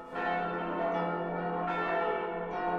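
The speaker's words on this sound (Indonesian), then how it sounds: "lonceng di pintu gerbang utama berbunyi" A bell rings at the main gate of a walled city in the Attack on Titan anime, sounding a sustained, resonant toll with rich ringing overtones. The strikes are close and loud, with a fresh stroke about every second, and no voices are heard.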